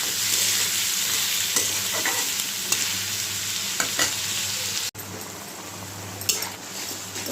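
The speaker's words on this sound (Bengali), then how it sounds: "আর একটা একটু হালকা করে ভেজে নেব চিংড়ি মাছগুলো।" Shrimp frying in a pan, a loud continuous sizzle with occasional scraping stirs and light clinks of the utensil, close up with no voices.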